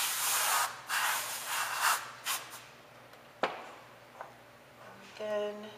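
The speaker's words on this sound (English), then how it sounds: "Just spray it with the canned air to get a little bit of texture in the background." Canned air sprays in short hissing bursts onto an alcohol ink painting, several close blasts in a row followed by a sharp click and a brief voice at the end.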